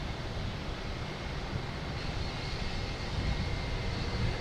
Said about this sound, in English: And we have Iberia just coming in from Madrid. An A321neo.